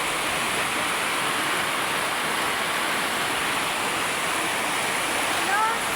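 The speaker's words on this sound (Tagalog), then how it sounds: "Malakas yung ulan, malakas din yung hangin." Steady, dense rush of heavy rain with strong wind, a broad roaring wash, constant and loud throughout.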